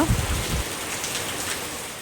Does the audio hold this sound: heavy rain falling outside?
yes